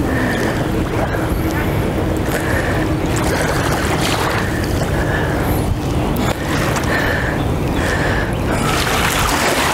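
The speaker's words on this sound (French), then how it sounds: "J'ai les vagues qui viennent juste à côté de moi" Ocean waves wash and lap close by on a shore, a steady loud rush with wind buffeting the microphone and periodic swells, with no voice over it.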